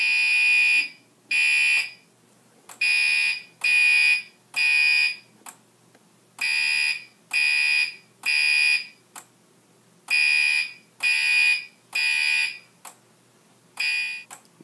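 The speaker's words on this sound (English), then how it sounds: "Now let's demonstrate the panel's ability for fire alarm" A fire alarm panel sounds a loud electronic alarm in repeated bursts, grouped in threes with short gaps, a harsh buzzing tone close by with no talking.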